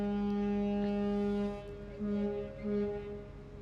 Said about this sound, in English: One long honk and then two short honks or something